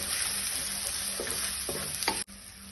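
Garam masala powder sautéing in a hot pan while veg bites are being cooked, giving a steady close sizzle with faint scraping stirs, which cuts off abruptly near the end to a quieter hiss.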